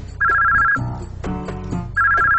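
An electronic telephone ringtone trills indoors, with two loud bursts of warbling ring and a lower-pitched stretch between them, heard clearly with no talking over it.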